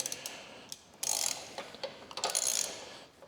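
A hand ratchet tightens a rear spring bolt on a Ducati Desert X motorcycle, giving quick bursts of crisp metallic clicks in short runs with small pauses, close and fairly quiet.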